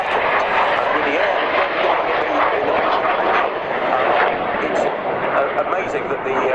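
Su-27 Flanker jet engines roar steadily throughout an air display, a loud continuous broadband rush with a voice talking over it.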